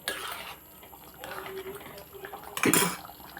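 Pots and utensils clatter as gram-flour curry is moved into a bowl in a home kitchen, with soft scraping and a sharp loud clang near the end while someone talks.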